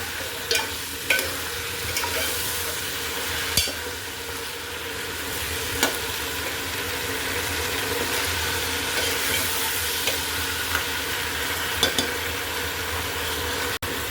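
Chicken fries lightly in hot oil for a hotel-style chicken soup, a steady broadband sizzle running throughout with occasional sharp clicks of a utensil against the pan, close and moderately loud with no voices.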